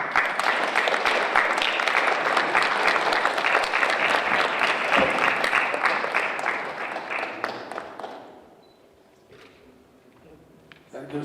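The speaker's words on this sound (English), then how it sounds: "Another round of applause." Audience clapping at a palaeontology award ceremony, a dense, lively round of applause for about eight seconds that tapers off, followed by a few scattered claps and quiet room sound.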